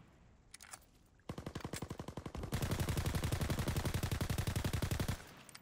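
A PPSh submachine gun fires on a WWII video game firing range: a short burst, then two long rapid-fire strings of loud, evenly spaced shots, the last stretch louder and denser, with no voices.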